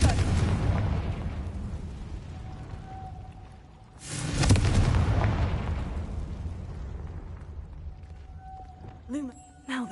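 A Confringo fire-spell explosion in the Hogwarts Legacy game erupts as one loud burst with a long decaying rumble, following an earlier rumbling stretch, with voices speaking and a faint tone near the end.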